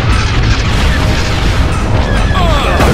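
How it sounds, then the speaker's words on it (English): Space battle in the video game Star Wars Empire at War: a dense, continuous roar of explosions and booming impacts, with laser fire, fills all three seconds at high volume. Radio-style voices can be heard faintly underneath. "Firing on their lasers."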